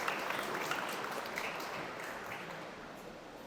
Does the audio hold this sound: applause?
yes